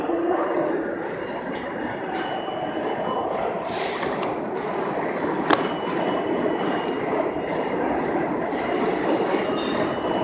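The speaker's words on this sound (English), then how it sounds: "right in the subway station." Trains in a subway station fill the space with a steady, loud rumble and clatter, and a brief sharp metallic click cuts through midway.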